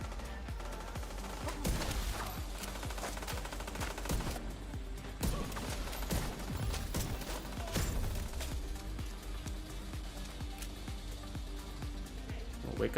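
Rifle shots crack repeatedly in The Division 2 from a heavy 1886 Regulus Virginian rifle build, sharp reports spaced in quick bursts over a fairly quiet mix, with someone talking faintly at times.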